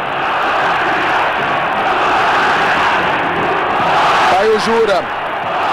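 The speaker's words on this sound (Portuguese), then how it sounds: "E a torcida grita olé" A stadium crowd at a 1993 Brasileirão Série A match between São Paulo and Internacional roars continuously, with chanted voices rising near the end, while a commentator talks over it.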